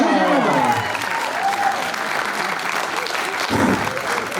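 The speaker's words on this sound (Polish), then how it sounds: "Trzecie brawa!" Dense, steady applause from an auction crowd at a charity fundraiser in Głogów, filling the whole stretch at an even, loud level without a break.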